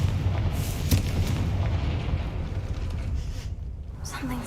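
Confringo, an explosive fire spell from the Hogwarts Legacy video game, goes off as a loud burst followed by a dense, rumbling roar. Crackling debris tails off near the end.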